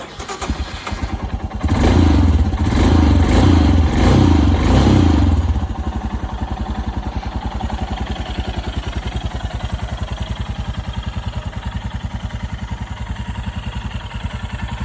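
A 2018 Royal Enfield Himalayan 411 motorcycle engine cranks and fires with a loud burst of revving, then settles into a steady, rapid idle that chugs on.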